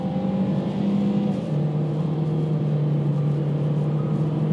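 A 2019 Ford Escape SEL with automatic transmission accelerating hard with the pedal floored, a steady engine drone rising in pitch and then shifting down in tone during an upshift, heard from inside the cabin.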